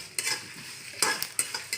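Chilies fry in a pan for a Palakkad-style mango curry, a close, steady sizzle under sharp scraping stirs that come in quick, uneven strokes, with no talk.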